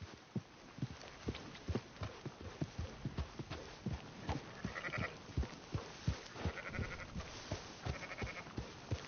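Sheep in Red Dead Redemption bleating repeatedly over steady clip-clop hooves as the flock is herded toward town, close and clear with no talk.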